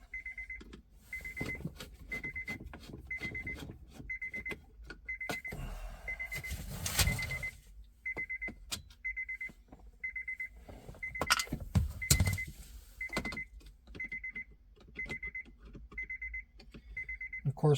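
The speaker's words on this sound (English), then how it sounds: "the reason you have to listen to that annoying beep is because I have to have the shifter out of park" Repeated short electronic beeps at a steady rhythm, a Honda Accord warning chime with the shifter out of park, continuing over clicks and rustling of radio removal work inside the car.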